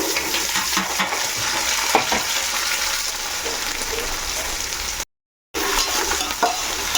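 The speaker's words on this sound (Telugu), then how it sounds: "ఇప్పుడు అందులోకి ఈ కాయగూరలన్నీ వేసి మనం వేపుకుందాం క్యారెట్ పచ్చిమిర్చి బీన్స్ ఆలు" Carrot, green chili, beans and potato frying in a pan give a steady, close sizzle with occasional stirring scrapes, broken by a brief cut to silence before the sizzling resumes.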